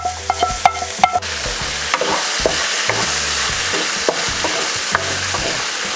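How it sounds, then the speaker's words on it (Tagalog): Onion and ginger frying in a pan while being stirred, a loud continuous sizzle broken by repeated scraping clinks of the utensil against the pan, no voices. "ipagpatuloy lang po natin ang paghahalo"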